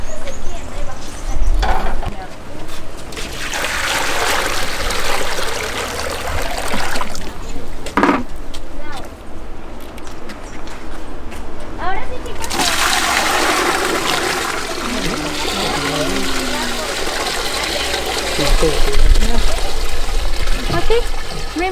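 Water drains and swirls out of a basin during an equator demonstration in Quito, Ecuador, a continuous rushing, gurgling flow heard close up, swelling and easing over the full length.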